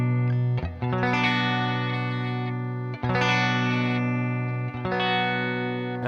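Distorted electric guitar barre chord strummed three times, each one ringing out fully and sustaining before the next strike, with no other sounds.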